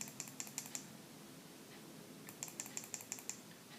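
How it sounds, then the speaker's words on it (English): Fire button on a YoudeTech Balrog 70 vape mod pressed in two quick bursts of five crisp clicks each, close and fairly quiet, alone with no talk. "The firing button. Click it 5 times."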